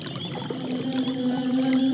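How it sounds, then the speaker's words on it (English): Magic Hippocrene water pours onto a Dryad's roots in the game Quest for Glory 5, a steady watery wash with a sustained magical tone that rises and brightens over two seconds, with no talking. "The magic water pours into the roots of the Dryad, and she comes to life."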